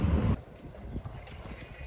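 Outdoor wind on a cold first day of spring, a heavy low rumble of gusts buffeting the microphone that drops off abruptly, leaving a softer breezy hiss.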